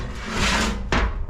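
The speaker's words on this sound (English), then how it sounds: "let me go ahead and lay this fender down" A 1957 VW Beetle fender being laid down in a hot rod garage, making a loud, close scrape and thud with a second sharp knock just after, over steady background noise.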